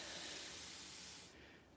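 A close, loud hiss of steam sprays onto a wet towel-covered piece of nalbinding during blocking, holding steady for over a second and then cutting off abruptly.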